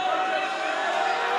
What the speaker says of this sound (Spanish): es un abucheo general